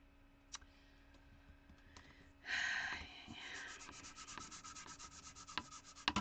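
A sander scrubs over a flat craft surface with a rough, rhythmic rasping that starts partway through and continues in quick repeated strokes. The sound is close but quiet, with a few sharp ticks among the passes.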